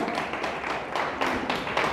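A church congregation claps for God, a dense, steady wash of many hands at close range with slight swells, no voices over it.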